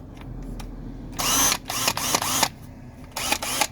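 New Craftsman power drill running in short bursts, a high whirring motor revved several times with brief pauses and soft clicks between triggers, close to the microphone, with no talk.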